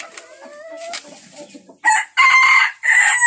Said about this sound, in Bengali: সব রকমের সিল্কি মুরগি আছে